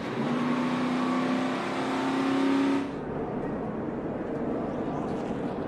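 NASCAR stock cars roar together at Talladega during a multi-car crash, a loud dense engine drone with a rising whine that cuts off abruptly partway through, leaving a rougher, duller rumble.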